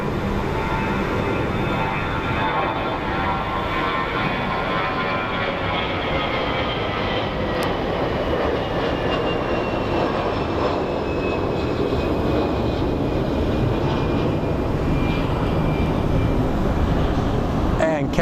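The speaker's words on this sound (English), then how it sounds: "Baby Airbus going to Salt Lake City." An Airbus airliner flies overhead on its way to Salt Lake City with a steady, loud jet roar and a slowly shifting whine. The roar fills the whole stretch without a break.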